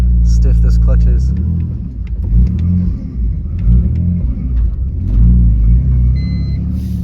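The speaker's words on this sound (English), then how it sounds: "I'm gonna release the clutch and we're gonna start rolling" A BMW with a stiff clutch and a slight exhaust leak rumbles loudly as the clutch is released and it starts rolling, the engine note low and throbbing, rising slightly, with someone talking over it.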